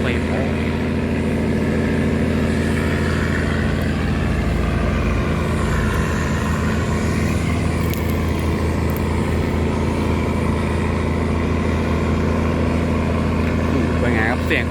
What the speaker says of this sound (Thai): เสียงของเครื่องยนต์นะ